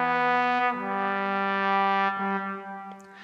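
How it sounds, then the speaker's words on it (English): A sampled trombone plays smooth legato lines, holding sustained notes that glide into one another through a few connected pitch changes, clear and close with nothing else in the background. "So here's the legato again."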